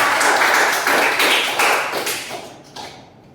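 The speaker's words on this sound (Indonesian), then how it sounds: "beri tepuk tangan untuk kalian semua" Students in a classroom clap for themselves in a short burst of applause that starts loud and dense, then thins out and fades within a few seconds.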